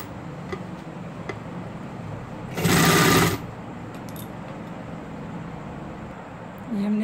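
A sewing machine stitches sleeves onto a baby frock in a short, loud whirring burst of about a second, with quiet ticking and faint background sounds before and after.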